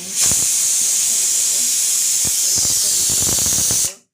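A loud, continuous hiss of steam escaping from a pressure cooker, with scattered clicks and taps beneath it, cutting off abruptly at the end.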